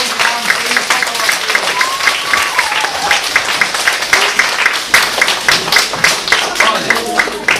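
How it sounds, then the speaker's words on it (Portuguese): Schoolchildren from a first-grade class clap for visiting author David Machado, a loud, lively burst of many small hands with uneven, rippling rhythm, close to the microphone and sustained throughout. "Uma salva de palmas para o autor"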